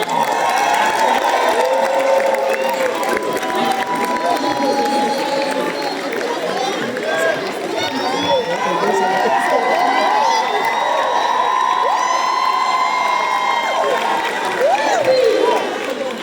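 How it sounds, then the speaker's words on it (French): A lively crowd in Brussels after a film screening cheers and applauds at length, with shouting voices, whoops and clapping blending into a loud, continuous roar. "applaudissez-la, s'il vous plaît."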